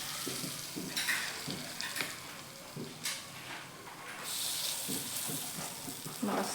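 Appe batter sizzles in ghee in a hot appe pan for pumpkin appe, a steady frying hiss broken by scraping and clinking of a spoon against the pan.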